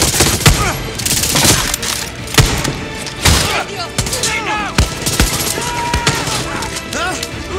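Gunfire in the video game Far Cry 6, rapid bursts of shots and heavy thumps with bullet whizzes and ricochets, loud and dense throughout, with voices mixed in.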